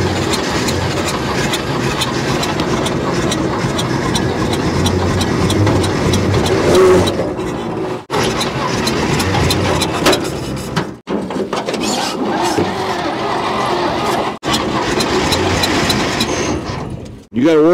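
A 1949 Dodge pickup truck, long abandoned in the desert, runs with a loud, steady engine rumble that holds for most of the stretch, broken by a few brief drops as the throttle is worked, with voices talking over it.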